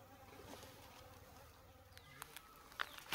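A honeybee colony being moved from a hollow into a box gives a faint, steady insect buzz, with a few soft knocks and clicks toward the end and no voices.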